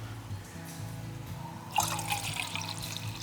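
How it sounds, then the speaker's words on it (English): Water poured into raspberry vinegar in a backwoods kitchen, a soft trickle that swells into a steadier splashing stream partway through, close and fairly quiet. "So I'm gonna water it down now."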